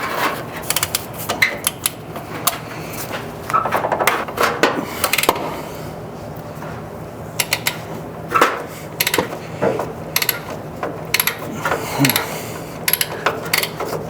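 Wrenches clicking, scraping and ratcheting on the control arm of a 1969 Ford LTD that sat unused for years; irregular metallic taps and rubs come in close bursts, with quiet gaps between them.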